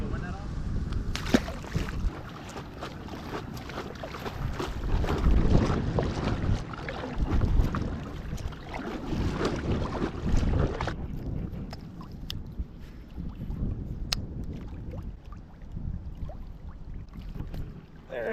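Wind gusts buffet a bass-fishing boat out on a lake, a loud rushing roar with heavy microphone rumble that eases somewhat later, while someone talks over it.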